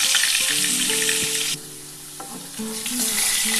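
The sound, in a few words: potatoes frying in oil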